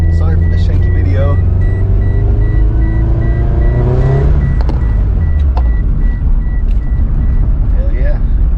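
A car with a failing clutch drives along, its engine loud and close as it revs up and then drops off, with a steady beeping tone running through it.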